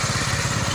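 A motorcycle engine idles close by, putting out a steady, throbbing low thrum with a quick regular pulse and no talking over it.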